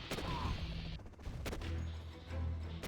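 Several sharp gunshots crack in quick succession in the video game C&C Generals Zero Hour, loud and close, with a rumbling echo between bursts.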